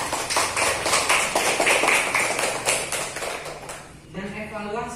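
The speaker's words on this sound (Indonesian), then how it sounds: "Tepuk tangan untuk kelompok 2 kan." A class of students claps together for a winning group in a classroom, a dense, rapid burst of many hands that fades toward the end, where a voice begins speaking.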